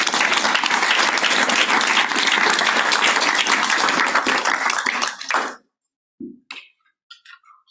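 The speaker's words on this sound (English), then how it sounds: "let's have a round of applause for all of those folks" Audience at a livestreamed planning competition gives staff a loud, dense round of applause lasting about five seconds before it cuts off abruptly, followed by a few quiet clinks and soft handling noises.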